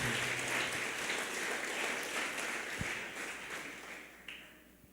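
A church congregation applauding together, a dense, steady wash of clapping that fades slightly toward the end, heard without speech over it.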